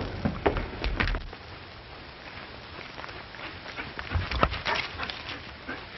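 A dog in a 1937 film scene gives several sharp barks and yelps in uneven bursts, fairly close, over a thin, muffled background.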